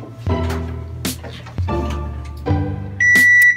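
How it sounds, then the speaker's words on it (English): An oven timer sounds several loud electronic buzzes in bursts with short gaps, ending in a higher steady beep, close by. "the buzzer is going off"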